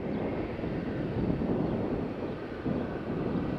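Steady, rumbling wind buffeting the microphone at Faro Airport, loud and continuous, with a low roar that may carry distant engine noise.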